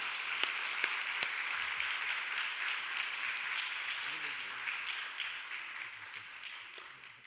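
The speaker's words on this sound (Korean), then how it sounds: "나오실 때 우리 큰 박수로 그냥 해주세요." A church congregation applauds at a New Year special prayer service, steady clapping heard at a moderate distance with a few sharper claps early on, gradually tapering off.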